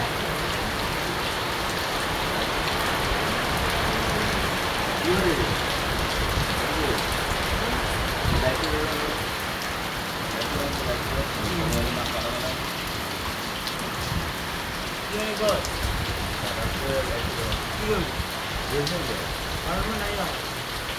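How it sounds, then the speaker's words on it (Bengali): Rain falls steadily under an overcast sky with a gentle breeze, making a continuous close hiss with scattered drips, and faint background sounds now and then. "বৃষ্টি নামছে, মেঘলা আকাশ।"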